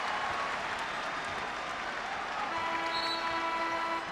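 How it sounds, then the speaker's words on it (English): Basketball arena crowd at a Knicks vs Warriors game giving a player a standing ovation, a broad steady wash of applause and cheering sustained throughout, with a faint sustained tone appearing near the end. "He's getting a standing ovation, and well, he should."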